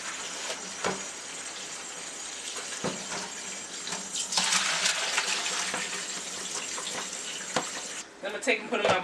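Tap water runs steadily into a sink, rinsing pieces of cut cauliflower, a continuous hiss with a few clunks and a brief break near the end.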